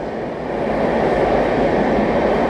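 Dibrugarh–New Delhi Rajdhani rushing past the standing Magadh Express at Tundla Junction, a loud steady roar of wheels and rushing air close by with faint rhythmic rail clatter, no talk.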